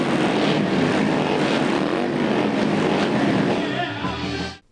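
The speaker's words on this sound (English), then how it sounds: "Before the final dismount, they rev their engines for Ollie." A group of motorcycles revs their engines in a parking lot, a loud dense roar of engine noise that holds steady and then cuts off abruptly at the end.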